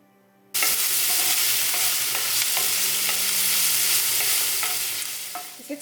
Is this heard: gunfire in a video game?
no